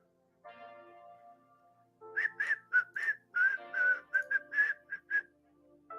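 A person whistles a quick melodic tune of short, bright notes after a softer sustained tone, close and clear with no talking.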